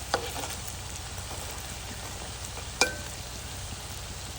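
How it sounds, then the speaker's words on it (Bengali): Puli pitha frying in hot oil in a pan, a steady soft sizzle running throughout with a brief clatter near the start and a sharper scrape as the pieces are turned over partway through. "পিঠাগুলোকে উল্টায় নিতে হবে ভালো করে, দুই পাশে ভাজার জন্য।"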